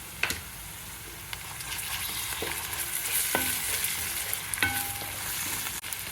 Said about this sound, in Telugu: ఉల్లిపాయ ముక్కలు వేగిపోతున్నాయండి.